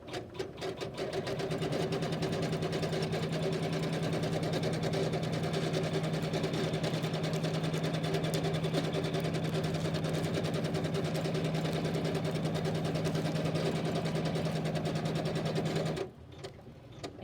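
A Janome embroidery machine stitches steadily for about sixteen seconds, a loud, even mechanical hum with rapid needle ticking, then stops abruptly.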